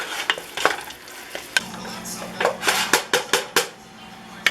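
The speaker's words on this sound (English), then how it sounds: "I'm going to add a couple tablespoons of chili powder so we get the chili powder infused with the meat." Meat fries in a pan as chili powder is stirred in, with a soft sizzle beneath a run of sharp, rhythmic scraping strokes that grow quicker toward the end, heard up close.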